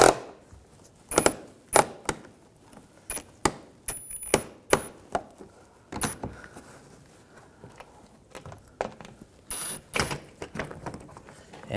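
Sharp metallic clicks and taps come from Phillips head screws being removed from the front bumper shield of a 2006-2010 BMW 550i, irregularly spaced and close, with quiet gaps between them.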